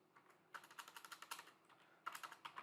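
Typing on a computer keyboard, two quick bursts of key clicks at an even rapid pace with a short pause between, close but faint against a quiet room.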